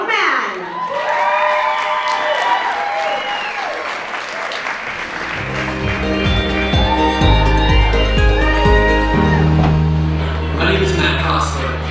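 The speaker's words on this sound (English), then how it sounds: "Let's give a round of applause to the greatest showman." An audience claps and cheers at a community dance show for a Greatest Showman musical theater number, the crowd noise running under loud music with sustained tones and a voice carrying over the mix.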